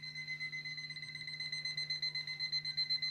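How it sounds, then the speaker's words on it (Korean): An alarm rings steadily at dawn in a school dormitory, a continuous pulsing electronic tone with rapid regular ripples, moderately loud and unbroken with no voices. "알람벨이 귀전을 때려도 꿈쩍도 않는 아이들."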